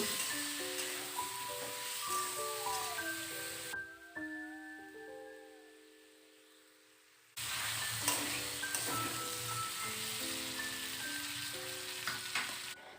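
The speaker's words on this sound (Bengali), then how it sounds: "আলু আর বেগুনটাকে ভালো করে আমি এবার কষিয়ে নেব তেলের মধ্যে" Potatoes and eggplant sauté in oil with a constant close sizzle and stirring, while a melodic music track plays over it; the frying drops out for a few seconds in the middle and then returns.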